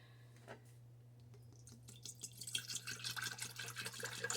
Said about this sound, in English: I'm pouring in the apple cider, but I'm not sure how much to put in yet.